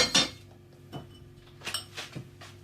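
Knife chopping a carrot on a board, heard as four or five separate knocks and clicks spaced about half a second apart, fairly close and quiet.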